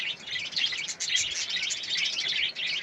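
Small birds chirping and tweeting in a steady, busy chorus close by, high bright calls overlapping continuously with no talk.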